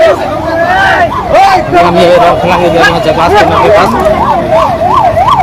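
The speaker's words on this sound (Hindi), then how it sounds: "एम्बुलेंस आई है।" Ambulance siren wailing in a rising and falling pattern at a road accident scene near Rongkhelan involving a scooter or bike, loud and continuous beneath someone speaking and crowd chatter.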